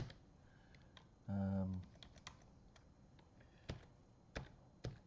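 Typing on a computer keyboard while setting up ChromeOS Flex: scattered sharp key clicks over a faint background, with one brief loud burst partway through, no talking.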